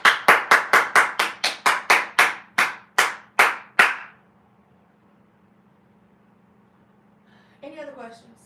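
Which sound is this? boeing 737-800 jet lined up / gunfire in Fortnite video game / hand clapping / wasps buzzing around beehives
hand clapping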